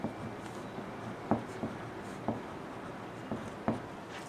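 A pen scratches quietly across a paper bodice block pattern while it is being drafted, making several short, soft strokes in an otherwise quiet room.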